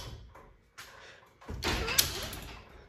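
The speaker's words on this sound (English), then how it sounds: "Close the door." A home garage door rolls shut with a sliding rumble and ends in a sharp clunk near the close, loud and nearby, with no talking over it.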